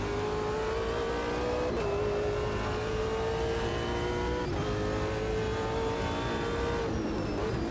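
Race car engine heard from outside in Automobilista 2, a loud sustained high-pitched drone that rises steadily and drops briefly at gear shifts, running continuously with no talk.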